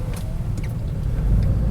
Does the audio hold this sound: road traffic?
yes